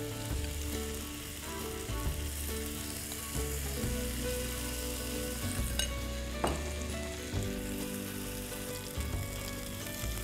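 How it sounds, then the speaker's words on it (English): Marinated cauliflower florets fry in hot oil in a pan, a steady dense sizzle with occasional stirring scrapes and clinks, close and continuous throughout with no talking. "And now I'm going to add the marinated florets to the pan."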